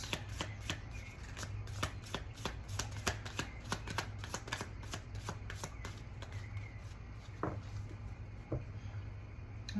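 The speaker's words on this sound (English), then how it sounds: "I'm gonna get better at shuffling these cards." A deck of cards is shuffled over and over, with quick crisp riffles and bridges coming in a steady, uneven rhythm, close and clear above a low constant hum.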